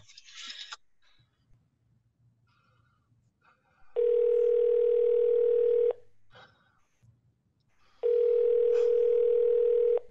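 A telephone in a radio play about a murder gives two long, steady electronic tone bursts about two seconds each, clearly separated by quiet gaps, with faint sounds in between.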